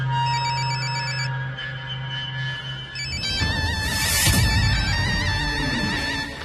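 A phone rings steadily with a melodic ringtone, close and clear, then a louder burst of noise rises over it toward the end.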